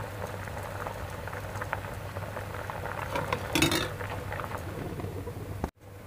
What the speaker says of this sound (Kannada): ಈ ಕಡೆ ಹೆಸರು ಕಾಳು ಬೇಯ್ತಾ ಇದೆ ನೋಡಿ